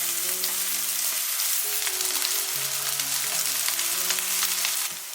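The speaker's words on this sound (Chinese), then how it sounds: "把2面煎到焦脆。" Glutinous rice and lotus root patties pan-fry in oil, giving a steady, fairly loud sizzle throughout with scattered crackles and faint background tones, no voices.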